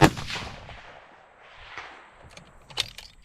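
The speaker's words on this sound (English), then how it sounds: "We'll shoot this small plate, see what kind of group we can get on it." A rifle fitted with a TMB muzzle brake fires once outdoors, a sharp loud blast with a ringing tail, followed about two and a half seconds later by a faint metallic clang as the round strikes a small distant steel plate.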